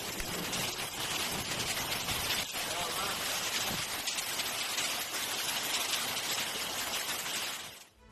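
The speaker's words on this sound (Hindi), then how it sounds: "लिटेर शहर में बारिश के बाद बरसे ओले" Dense, steady pelting of hail and rain hitting surfaces, a loud continuous hiss and clatter that cuts off abruptly at the end.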